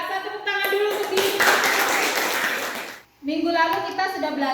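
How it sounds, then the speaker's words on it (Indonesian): Students in a physics class clap for themselves, a roughly two-second burst of dense group clapping mixed with voices, followed by a short pause and a teacher talking. "Tepuk tangan dulu untuk diri."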